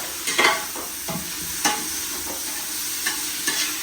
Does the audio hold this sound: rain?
no